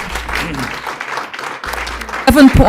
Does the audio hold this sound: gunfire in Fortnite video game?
no